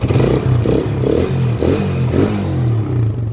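A Suzuki Raider 150 carburetor-type motorcycle engine revs in repeated short pulses, about five rising bursts over a rough rattling idle, loud and close.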